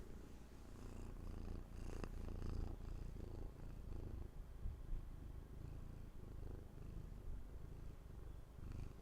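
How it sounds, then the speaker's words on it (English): Close, steady purring from a cat, a soft rumbling rhythm continuing throughout with slight rises and falls in strength. "Yeah, you brought the purrs."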